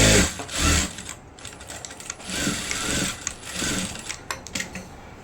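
Sewing machine stitching a chudidhar, running a repeat stitch in steady bursts of rapid mechanical clatter with brief pauses between runs, close and fairly loud, with no voices.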